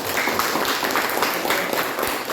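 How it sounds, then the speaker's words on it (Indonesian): A classroom group claps for the best team, a moderate, dense patter of hand claps that continues steadily for a couple of seconds, with no voices. "Kasih dulu tepuk tangan."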